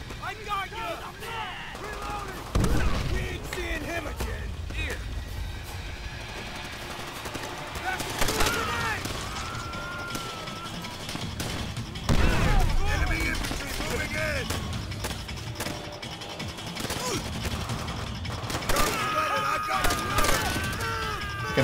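Gunfire rings out in Call of Duty: World at War during the Shuri Castle battle. Loud rifle and machine-gun bursts recur every few seconds over a constant combat clamor, with shouting voices heard between the shots.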